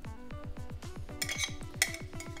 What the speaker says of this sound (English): Then we're gonna go ahead and add in all of our chopped ingredients.